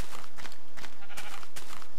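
Sheep in the video game Minecraft, several short bleats in a loose rhythm, loud and close, with no talking.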